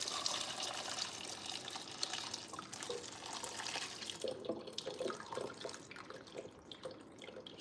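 Water runs and splashes as beans are rinsed by hand in a bowl or sink, with a steady pour giving way to intermittent sloshing and dripping, close and fairly quiet, no voices.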